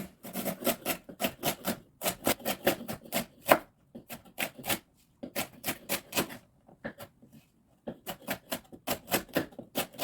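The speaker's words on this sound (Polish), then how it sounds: "Teraz pokroję seler naciową, wcześniej ją umyłem, też na drobne kawałki." Rapid, steady knife chopping of celery stalks on a cutting board, crisp close taps in quick bursts separated by brief pauses.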